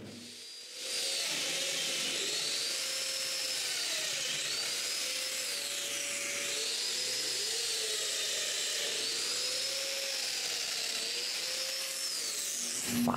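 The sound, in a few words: domino joiner drilling mortises in wood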